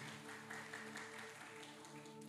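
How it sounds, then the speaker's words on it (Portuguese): Church congregation applauding during a sermon, an even bed of clapping mixed with a sustained tonal hum underneath, fairly distant and steady. "Aplauda Jesus"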